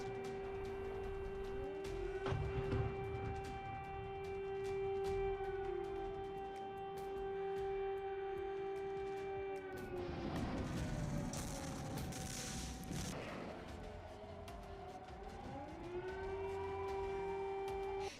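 Civil defense air raid sirens wail across Ukrainian cities during a missile and drone attack, a long steady tone that dips and rises again, with a burst of rumbling noise and distant booms in the middle.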